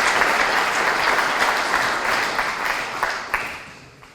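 Sustained crowd applause fills the room, steady clapping with a few sharper claps standing out before it fades near the end.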